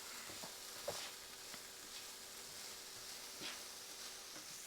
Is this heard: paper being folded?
no